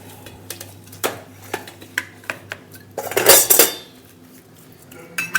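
A steel bowl presses a ghee-rich gundar pak mixture in a pan, producing a series of sharp metallic clinks and knocks at irregular intervals, followed by a louder burst of scraping and clattering.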